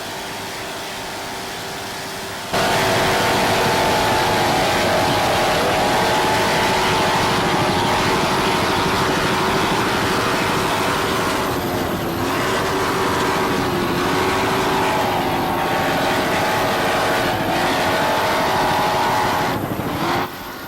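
An offshore racing powerboat in an open-class championship near the 59th Street Pier in New York roars past, a loud, sustained engine drone that starts abruptly and holds steady, with slight pitch shifts as it goes by.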